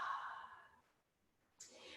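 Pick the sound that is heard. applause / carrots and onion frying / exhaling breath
exhaling breath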